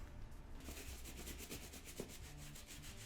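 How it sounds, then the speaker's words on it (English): A brush scrubs saddle soap into leather cowboy boots in steady, close rubbing strokes that run continuously with no talking. "you really want to scrub in this"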